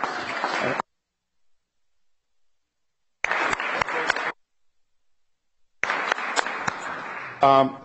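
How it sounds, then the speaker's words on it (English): City council chamber audience applauding honorees, heard as bursts of clapping separated by silent gaps, with a voice beginning at the end of the last burst. "Let's give them a round of applause, please."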